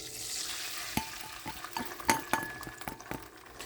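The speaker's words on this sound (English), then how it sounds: "The oil is nice and hot. Okay, so I'm going to pour the egg in." Beaten egg hits hot oil in a pan and fries with a crackling sizzle, sharp spits and small clatters of a utensil popping out over a steady hiss.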